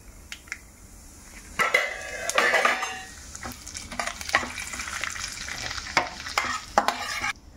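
Mustard seeds, cumin, chana dal and urad dal tempered in hot oil for a raw banana dish with mustard paste, sizzling and crackling steadily while a spoon stirs and clinks against the pan, close and fairly loud, no talk.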